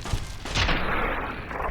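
Gunshots ring out in Fallout New Vegas as a short, sharp burst of gunfire fades into a ringing, echoing tail, loud and close with no talk over it.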